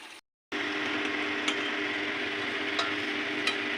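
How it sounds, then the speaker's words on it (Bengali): Chicken pakoras frying in hot oil, a steady dense sizzle that starts after a brief silence, with a few faint clicks of a utensil. "আর একটু লাল করে ভাজতে হবে।"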